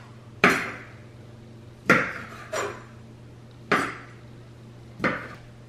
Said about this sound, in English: do what I'm doing and chop your grape tomatoes up